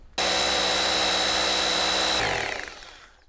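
A power drill bores a hole into an insulated house wall to mount gutter pipe clamps, a loud steady whine starting abruptly, running for two seconds, then winding down as the bit slows.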